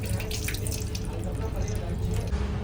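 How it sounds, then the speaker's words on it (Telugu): Water gushes steadily from a push-button washbasin tap aboard an Amrit Bharat train in India, a close, continuous rushing stream over low train rumble. "ఒకసారి లైట్గా ప్రెస్ చేసే చాలు ఆటోమేటిక్గా వస్తూనే ఉంటుంది నీళ్ళు"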